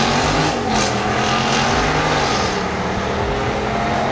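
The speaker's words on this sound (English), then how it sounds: "The Hemi has a powerful exhaust note" The 6.4-liter Hemi V8 of a 2022 Jeep Grand Wagoneer SUV running loud and close, a continuous deep exhaust rumble held steadily throughout with no talk over it.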